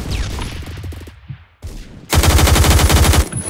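Rapid machine pistol fire in the online shooter Phantom Forces, with a short burst early on and a loud, dense sustained stream of shots in the second half.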